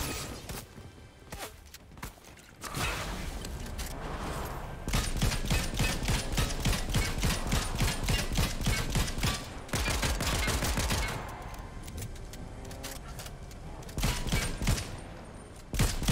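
Sustained rapid gunfire in Fortnite aimed at a tree, long rattling automatic bursts broken by short pauses, loud and close, with mechanical clicks in the quieter stretches.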